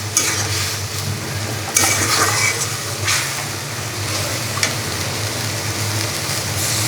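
Fish pieces go into a pan with potato and greens, setting off a loud, continuous sizzle with stirring scrapes and a few sharper bursts, close up under a low steady hum.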